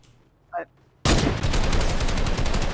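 Gunfire in Fortnite blasts at a brick cone: after a quiet moment with a short voice, a loud, rapid, continuous burst of shots fills the rest, close and relentless.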